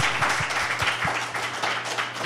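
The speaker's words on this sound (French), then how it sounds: "Donnez-vous une bonne main d'applaudissements." Audience applause at a live podcast: a steady, dense wash of many hands clapping close by, filling the whole moment without pause.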